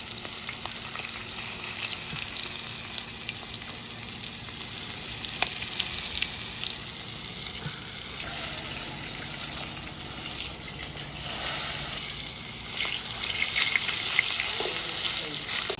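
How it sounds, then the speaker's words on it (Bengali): A whole rooster fries in hot oil village-style, a continuous loud crackling sizzle with occasional pops and stirring scrapes, close and steady throughout. "আমাদের মোরগটা কিভাবে ভাজা হইতেছে, পুরো লাল লাল করাম ভাজাটা"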